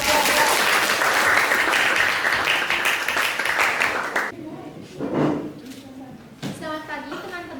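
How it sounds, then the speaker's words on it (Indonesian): Classroom students applaud a teacher after a group presentation, a loud sustained burst of clapping that stops abruptly, followed by talking. "tepuk tangan buat Bapak"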